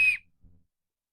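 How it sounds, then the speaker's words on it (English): A small plastic survival-kit whistle from a budget tin gives one short, shrill blast that cuts off quickly, with a faint handling thump just after. "So this whistle, I kind of like the idea of this."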